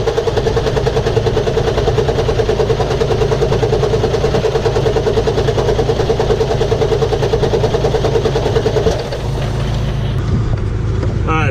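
International truck engine cranked and running, a loud steady rumble with a fast, regular pulsing throb close by, continuing for about nine seconds before the tone drops and eases off near the end.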